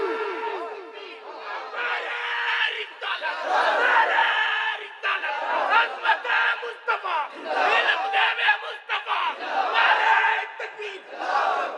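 A large crowd roars a takbir chant in unison, loud and sustained, rising in repeated surges with overlapping voices and chatter between them.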